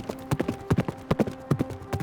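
Horse hooves clip-clopping steadily as a royal party of riders with servants rides out in a dramatized Elizabeth I scene, a brisk rhythmic patter of many hoofbeats close by, without talk.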